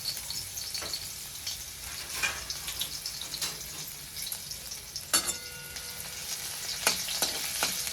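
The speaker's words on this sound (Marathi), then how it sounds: "तेल तापले मी अगोदर भाजी टाकून घेते तर भाजी टाकण्यासाठी मी थोडासा लसूण टाकलाय" Garlic sizzles in hot oil in a pan for a potato and fenugreek leaf dish, a soft continuous crackle broken by a few sharper clinks and spatters, close and fairly quiet with no voices.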